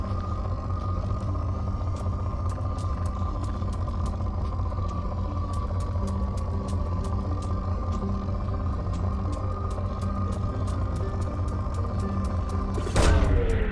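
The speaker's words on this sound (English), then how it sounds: "Launching probe." A probe launches in Mass Effect 2 with a sudden brief whoosh near the end, rising over a steady low ship rumble and faint ticking clicks that fill the rest of the stretch.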